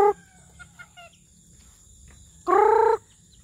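A rooster crows once, loud and close, after a few short clucks and calls from the chickens around it in a quiet farmyard.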